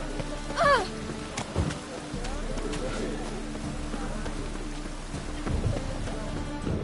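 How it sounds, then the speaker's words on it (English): Steady heavy rain hisses throughout in The Witcher 3, with a few bird calls and thumps near the start, nothing else breaking through the downpour. "It's raining buckets."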